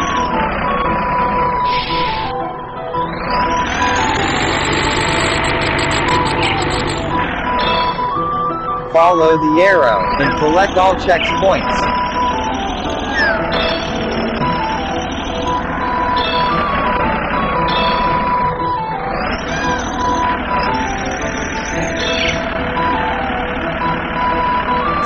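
A tractor engine hums in a 3D farming simulator game on Android, with a repeating electronic reversing beep and game music over it; a voice speaks instructions at points.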